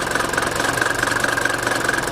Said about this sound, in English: that adjusts the RPM of the engine, as you can hear